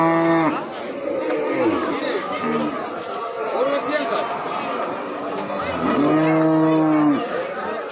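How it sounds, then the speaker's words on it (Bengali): Cattle moo repeatedly at a crowded, cramped cattle market, with loud, close, drawn-out bellows at the start and again near the end over constant crowd chatter and talking. "প্রচুর পরিমাণে গরু বেচা কিনা হচ্ছে আজকে।"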